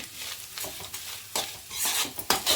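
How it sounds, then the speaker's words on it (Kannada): Coconut rice being mixed in a pan, with a soft sizzle under repeated scraping and stirring strokes at close range. "ಸೊ ಇವಾಗ ನೀಟಾಗಿ ಮತ್ತೆ ಮಿಕ್ಸ್ ಮಾಡ್ಕೊಳ್ಳೋಣ"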